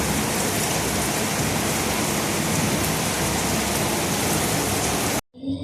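Heavy rain pours steadily in a dense, loud hiss, with water coming in through a window, and then cuts off abruptly near the end.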